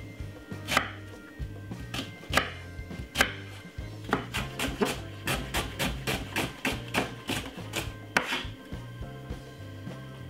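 Half a white onion chopped on a cutting board, crisp knife strikes that start as spaced single chops and speed into a steady rapid rhythm, close and clear with no speech.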